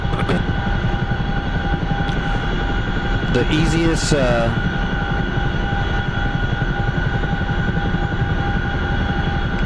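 A jet engine drones steadily and loudly in a DCS flight simulator, while someone talks over it partway through.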